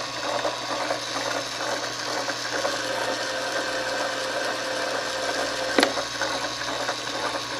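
Primer pocket uniformer cutting the primer pocket of a brass cartridge case, a continuous close grinding, ratcheting scrape with one sharp click near the end, no talking.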